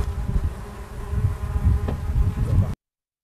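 Bees buzz steadily and closely in a cherry orchard, a dense continuous insect drone that holds for about three seconds and then cuts off abruptly, with no talking.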